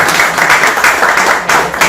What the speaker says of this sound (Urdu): یار تالیاں نہیں ہیں آپ کی.